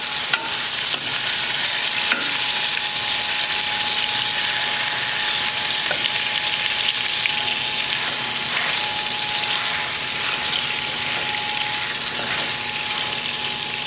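Honey mustard pork chops fry in a hot pan and get turned over, giving a steady, loud sizzle with a few faint clicks of the utensil, and no voices.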